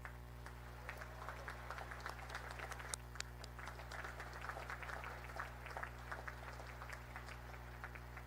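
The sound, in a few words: graduation ceremony audience applause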